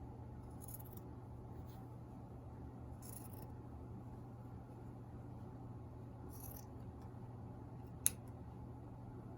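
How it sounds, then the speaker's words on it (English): A few soft, brief snips of scissors spaced apart over a steady low hum, with one sharp click near the end. "I'm going to take my little scissors and cut a little bit farther."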